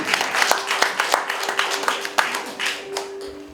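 Audience at a poetry recital concert in an arts hall claps and applauds for an honored professor, a dense patter of many hands with scattered sharper claps, steady and moderately close with faint voices mixed in.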